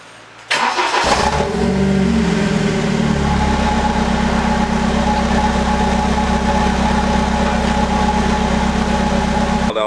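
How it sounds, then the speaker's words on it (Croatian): A BMW engine cold-starting inside a garage: a brief cranking burst catches into a loud, steady idle with a low rumbling drone that holds evenly for the rest of the stretch. "idemo sad jedan cold start odraditi"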